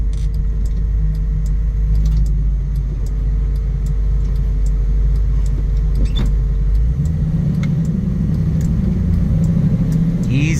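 A 1969 Chevrolet Camaro's LS3 V8 engine rumbles steadily up close, with scattered sharp crackles and pops on downshifts over the drone and a shift in engine tone near the end.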